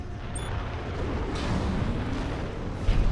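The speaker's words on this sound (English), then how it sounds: "all 3 explosions will be seen" A large explosion in the video game Armored Core VI produces a loud, continuous low rumble that rolls on for about three seconds, with no voices over it.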